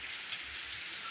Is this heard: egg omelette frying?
no